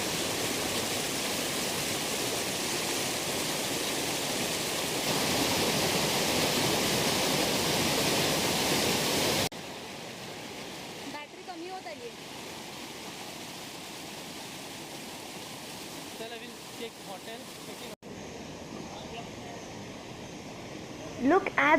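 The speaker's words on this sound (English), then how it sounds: "The only sound that you could hear was that of the gushing Parvati River" The Parvati River gushes at Kasol in Himachal Pradesh, a broad, loud roar of rushing water that fills the air, dropping to a quieter, more distant rush partway through.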